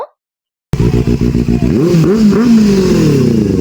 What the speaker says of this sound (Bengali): আর এটা ছিল দাদা সুপার বাইকের পাওয়ার